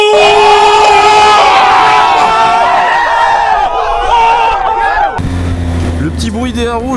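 Triumph Speed Triple 1050 RS (2018) revving hard under acceleration, its exhaust note rising and wavering over wind roar before the pitch drops, heard up close with a rider talking over it.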